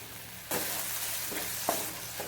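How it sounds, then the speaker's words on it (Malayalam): A ground chilli paste for chammanthi drops into a hot pan and bursts into a loud, steady sizzle, with a couple of brief stirring clicks over about two seconds. "ഇതിവിടെ കിടന്ന് വറുത്ത് വരട്ടെ കേട്ടോ"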